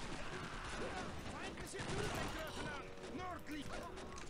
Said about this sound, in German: so ein MG, was 24 Schüsse die Sekunde raushaut